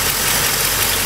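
A Ford engine fitted with a Cobra air cleaner idles steadily up close, a continuous low rumble with no talk over it.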